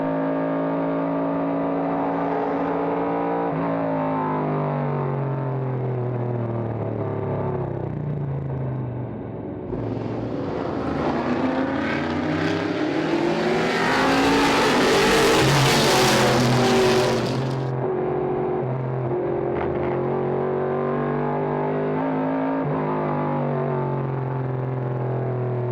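The number 2 1971 AMC Javelin race car climbs a hill during a vintage racing event. Its engine gives a steady, rumbling drone that swells into a loud, roaring pass, then settles back to a distant hum.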